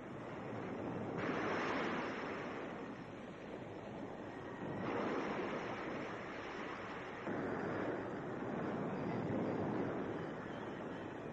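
Stormy sea off the Normandy beaches after the landings: a continuous roar of crashing waves and gusting wind, swelling and easing in broad surges, steady and moderately loud with no voices.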